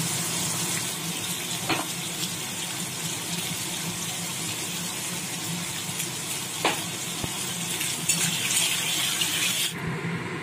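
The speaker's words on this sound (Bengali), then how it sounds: "এ দেখো মাছগুলো ভাজা হয়ে গেছে, মাছগুলো ভেজে তুলে নিলাম" Fish frying in hot oil in a wok, a steady broad sizzle running throughout at close range with a few brief clinks and pops, no talking.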